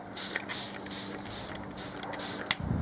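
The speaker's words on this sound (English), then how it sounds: "First thing you do is spray your moulds." Plaster moulds are sprayed with a mix of water and washing-up liquid, giving a series of short hissing pump-spray bursts in a quiet room, about five quick squirts at a steady rhythm, fairly faint.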